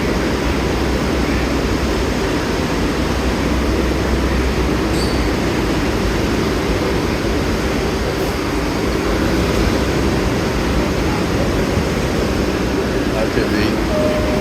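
A New York City subway train idles or rolls at the 33rd Street IRT station platform, giving a loud, continuous low rumble and roar with faint metallic squeals, while a voice talks over it.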